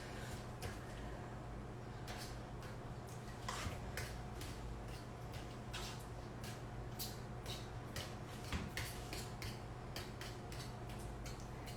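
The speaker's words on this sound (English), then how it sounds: "I'm just using a fork so that I can mash the bananas as I go." Fork mashing bananas in a bowl for banana bread, a quiet run of repeated light taps and clicks against the bowl at an irregular rhythm.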